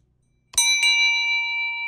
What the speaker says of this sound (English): Maybe the servant doesn't hear the ringing here.